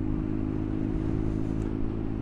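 BMW GS Urban motorcycle engine running steadily close by, a smooth low rumble with constant loudness and no talk.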